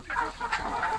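Pure Darag native chickens cluck in a short burst of soft, repeated calls close by, with no talking.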